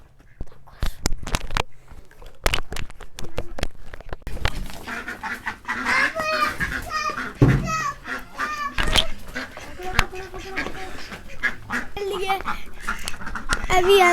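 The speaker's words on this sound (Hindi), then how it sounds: "ये हमारी प्यारी बतखें है" Pet ducks being chased and caught by hand, with scattered quacks and honking calls amid scuffling, thumps and handling noise, while people talk throughout.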